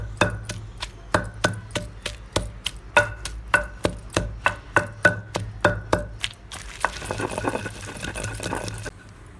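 Raw garlic is pounded coarsely in a mortar for a chicken fry masala, giving steady, evenly spaced thuds in quick rhythm, close and fairly quiet, which give way to a softer grinding scrape near the end.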